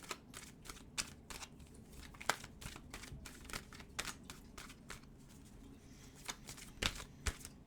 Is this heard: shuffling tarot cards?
yes